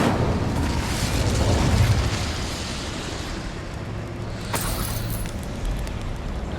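An Incendio fire spell cast in Hogwarts Legacy gives a loud, continuous roaring burst of flame that swells at the start, then settles into a steady rushing rumble with a brief flare near the end.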